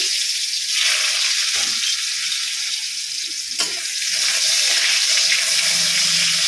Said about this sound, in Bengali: আমি আগে একটা তেলে ভেজে নিচ্ছি, হালকা করে ভেজে নিচ্ছি।